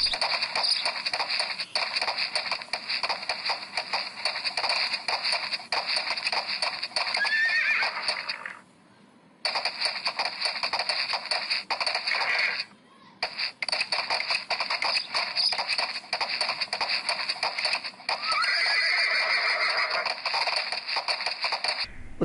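A horse whinnies repeatedly while its hooves clip-clop in a steady rhythm, loud and close, broken by a couple of brief silent gaps.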